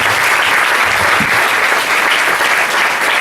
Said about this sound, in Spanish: Den un aplauso al Señor por su fidelidad.